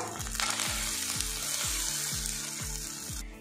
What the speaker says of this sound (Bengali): আদা রসুন পেস্ট ভেজে নিয়েছি। এবারে এর মধ্যে দিয়ে দেবো মুসুর ডাল বাটা।